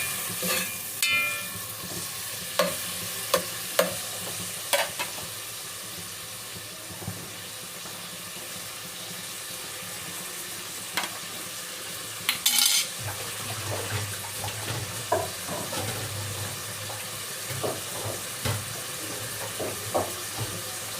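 Chicken liver sizzling steadily in a pan close by, with intermittent clinks and scrapes of stirring over the continuous frying hiss.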